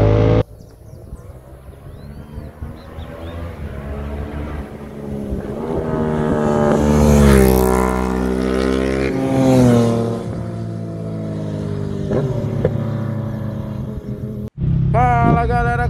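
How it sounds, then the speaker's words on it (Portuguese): A tuned Yamaha MT-07 motorcycle engine rumbles loudly up close, rising into a strong rev and settling back to a throbbing idle for several seconds before cutting off abruptly. "Olha o ronco. Essa aqui é uma Yamaha MT-07"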